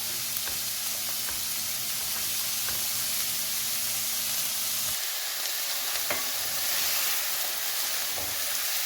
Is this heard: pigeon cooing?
no